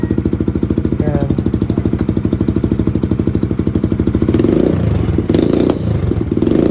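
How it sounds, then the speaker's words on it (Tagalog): Close-up motorcycle with a new open muffler from Indonesia: a loud, choppy idling exhaust beat that swells into a brief throttle rev and settles back toward idle. "madinig nyo yung tunog ng ating muffler"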